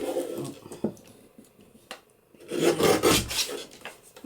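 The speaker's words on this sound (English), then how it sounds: "May have overtaxed the old trimmer there a bit, I think." A paper trimmer slices through a thick stack of journal pages, giving a short rasping, scraping cut with a few light clicks before it and a louder grinding stroke near the end; no one speaks.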